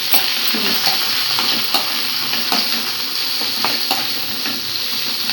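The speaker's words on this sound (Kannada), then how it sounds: "ಅಣಬೆ ಹಾಕಿ ಸ್ವಲ್ಪ ಮಿಕ್ಸ್ ಮಾಡಿ." Mushrooms fry loudly in a hot pan while a spoon stirs them, giving a constant close sizzle punctuated by regular scraping strokes, with no voices.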